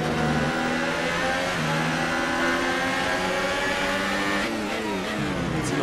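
Red Bull Formula 1 car engine at full throttle in the F1 2018 racing game at Bahrain, a loud continuous high-pitched scream with rising and falling pitch as gears shift, steady throughout.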